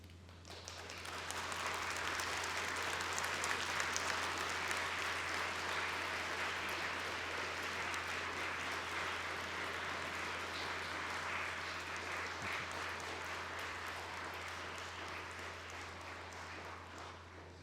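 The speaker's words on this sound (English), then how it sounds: "I would like to invite you just to stand up for a moment and give a round of applause to those" At a University of Manchester graduation ceremony, a large hall audience applauds its supporters in a long, steady round of clapping that swells quickly and holds evenly, faint and distant over a low hum.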